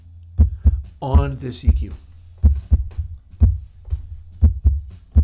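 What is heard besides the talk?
heartbeat sound made from parade kick drum with EQ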